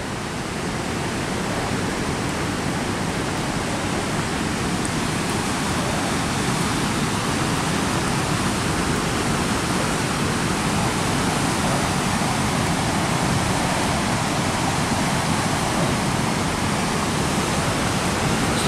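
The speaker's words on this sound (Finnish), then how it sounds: "Kohtalaisen komia on koski." Roaring river rapids on a big waterfall in Scandinavia give a loud, continuous broadband rush that holds steady throughout with no pauses and no voices.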